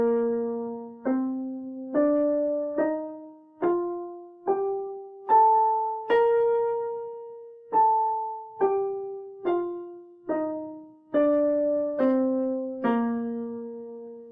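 A French horn plays a scale up and back down, one clear sustained note at a time, each tongued and slightly fading, about sixteen notes over fourteen seconds, solo and close.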